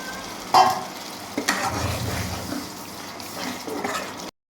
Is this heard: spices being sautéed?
yes